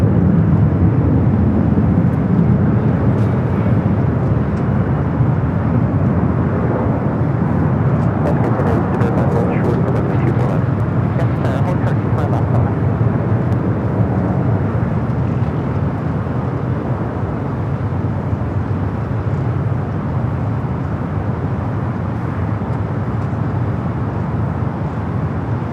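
An Air France Boeing 777 airliner arriving from Paris passes over LAX as a loud, continuous jet rumble that swells and slowly eases across the whole stretch.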